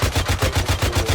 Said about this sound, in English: Can you put a couple of minigun rounds there?